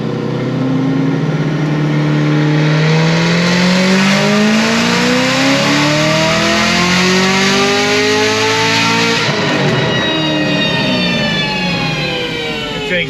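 A 1000 hp Stage 4 Camaro ZL1, running a partial ethanol blend, screams through a full-throttle pull, engine pitch climbing steadily through the gears with a brief shift dip, loud and close, no talking.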